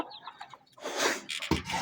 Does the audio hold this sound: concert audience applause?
no